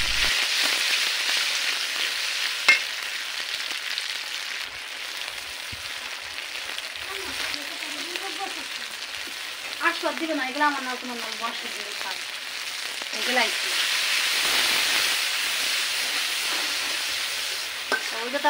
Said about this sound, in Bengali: এখন এই যে মাছের মশলা দিতেছি তেলের ভিতরে